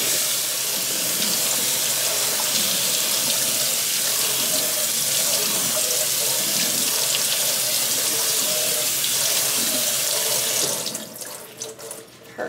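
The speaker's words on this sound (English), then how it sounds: "We're gonna wash our tomatoes." Kitchen tap water pours steadily into a sink while tomatoes are washed, a loud, close, continuous hiss that cuts off near the end, leaving a few splashes and clatters.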